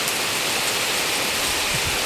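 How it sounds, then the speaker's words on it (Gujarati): Heavy rain driven by strong wind, a dense continuous hiss of downpour that stays loud and unbroken throughout with no voices. "ફૂલ પવન સાથે વરસાદ ચાલુ થઈ ગયો છે"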